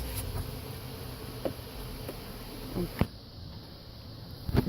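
Honeybees hum in a dense, continuous drone around a beehive during an inspection, loud and close, with a few brief knocks and rustles of handling.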